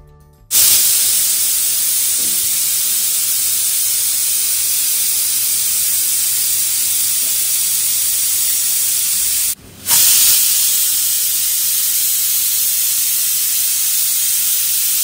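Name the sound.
pressure cooker whistling steam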